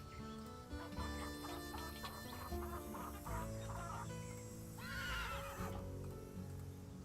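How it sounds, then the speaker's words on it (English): Horses whinny and neigh loudly in the ranch scenes of the video game Nancy Drew: Secret of Shadow Ranch, over chickens clucking, a steady music-like tonal backdrop and a soft clip-clop. "these horses are making a lot of noise."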